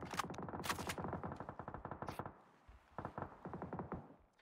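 Rapid bursts of automatic gunfire in the battle royale game PUBG, a dense rattling run of shots for about two seconds, then sparser, fainter single shots trailing off.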